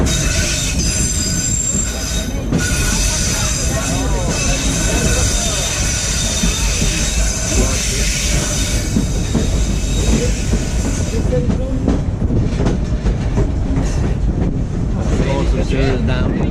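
Skagway sightseeing train rolling along its rails near a rocky edge, with steady loud rumble and clatter of wheels plus high metallic squeals throughout, wind buffeting the microphone, and voices faintly underneath.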